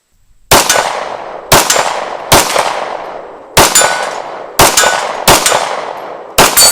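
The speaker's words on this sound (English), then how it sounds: "Nice, slow, consistent shooting." Seven sharp 9mm pistol shots from a Springfield Prodigy 1911 DS fired at an outdoor target about 40 yards away, loud and evenly spaced about a second apart, each with a ringing decay and no talk.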